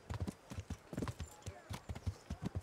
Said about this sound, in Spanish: Y mi caballo.